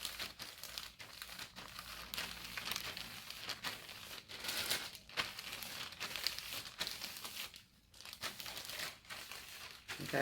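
Plastic crinkles and rustles close up in irregular bursts, with brief pauses between handfuls of crumpling.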